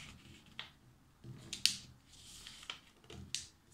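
A sheet of paper is folded in half by hand, giving a few crisp, close rustles and sharp creasing snaps spaced irregularly over a quiet background.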